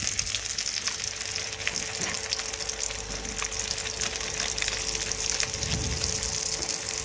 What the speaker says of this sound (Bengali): এখন আমি ভালোভাবে হলুদ ও লঙ্কা গুঁড়ো সর্ষে বাটার সাথে এভাবে নাড়াচাড়া করে একটু ভেজে নিচ্ছি